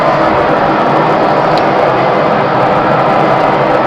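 A Boeing 737NG jet taking off in a flight simulator, a loud, steady, broadband engine roar that holds constant throughout, with no talk.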